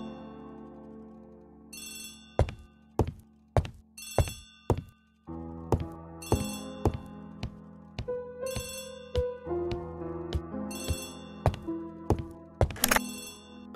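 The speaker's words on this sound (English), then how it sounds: "Poirot, the telephone." A telephone rings repeatedly in Agatha Christie: The ABC Murders, a detective adventure game: bright, clipped electronic ring bursts in a steady pattern, each with a thunk-like attack, over a soft musical bed, with no talk.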